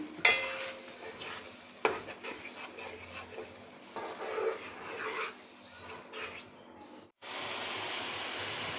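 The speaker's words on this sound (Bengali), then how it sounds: "মুগ ডাল একটু নেড়ে চেড়ে নিলাম" Soaked mung dal stirred in a pan with oil, a soft scraping and sizzling texture broken by a few sharper clinks of the utensil, moderately close, then a steadier hiss near the end.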